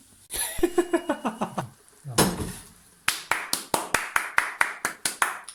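Hand claps ring out in quick bursts, first a rapid series, then a pause and a louder, evenly spaced run of sharp claps nearby.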